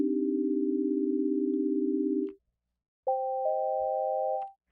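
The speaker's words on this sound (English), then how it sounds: "we can just very quickly create something like this that will give us some sine waves" Synthesized sine wave tones: a steady low pure tone holds for about two seconds and stops, then after a short silence a higher pair of stacked pure tones sounds briefly, clean and alone.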